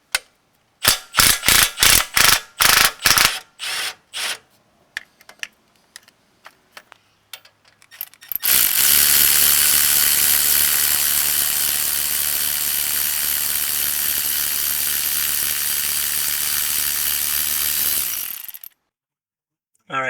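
A ratchet wrench working the 18 mm nut on a Jeep Gladiator sway bar end link: a burst of sharp separate clicks, then about ten seconds of continuous loud mechanical whirring that stops abruptly.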